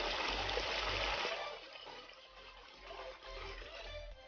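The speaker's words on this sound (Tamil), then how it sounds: "நம்ம கட் பண்ண முருங்காய் எல்லாத்தையுமே தண்ணியில் நல்லா போட்டு நல்லா கழுவி எடுத்துக்கலாம்." Cut drumstick pieces being washed in water for a drumstick fry, with steady splashing and sloshing close up, loud at first then slightly softer, no talking.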